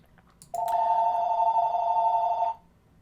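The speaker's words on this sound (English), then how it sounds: "Sorry for the phone call." A telephone rings once during a recording, a steady loud electronic tone lasting about two seconds, close and alone with no talk over it.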